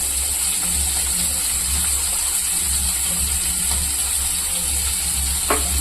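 Green chillies and large peppers sauté in a pan, giving a steady, dense sizzle and hiss that runs unbroken throughout, with a brief stirring scrape near the end.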